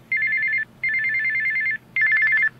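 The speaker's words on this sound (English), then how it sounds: "Hang up the fucking phone!" Loud electronic phone ringing in three warbling bursts, each about half a second to a second long, with short gaps between them and no voices over the tone.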